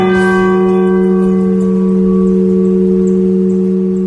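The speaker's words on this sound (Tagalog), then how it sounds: "Kampana ng simbahan ay nanggigising na" A church bell struck once near the start, then a loud, close ring that hums on steadily for several seconds with rich layered overtones, fading only slightly. No voices.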